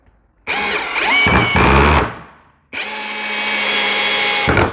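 Two loud bursts from a DEKTON dK 2140MKT cordless drill driving a screw at its lowest speed setting, each whirring motor run lasting about two seconds with a short pause between, close up with no talking.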